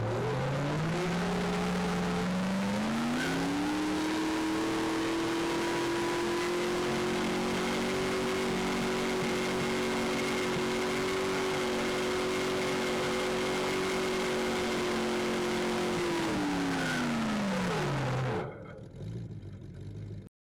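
A race car engine revs up hard and holds a steady high-pitched roar at maximum RPM for many seconds, then drops away abruptly near the end.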